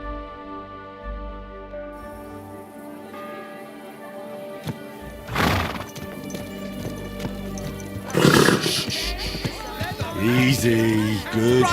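A horse in the medieval video game Kingdom Come Deliverance 2 snorts and whinnies amid thudding hoofbeats and game ambience, with a couple of loud bursts and a voice heard near the end.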